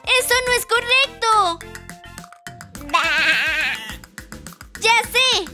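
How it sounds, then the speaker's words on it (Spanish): Cartoon-style sheep bleats in a children's animal song, loud and close, sound in several wavering bursts. They are mixed with music and lively voices, and the bleats seem voiced or stylised rather than from a real animal. "¡Ese es el sonido de la oveja!"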